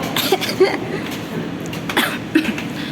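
Several short coughs break out at irregular moments over a steady, noisy background of indistinct activity.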